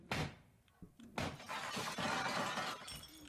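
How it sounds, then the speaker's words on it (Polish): Window glass shatters in the horror video game Poppy Playtime, with a loud crash near the start, a brief pause, then a sustained burst of breaking glass and crashing debris that trails off. "Słychać jakby się wybił przez okno."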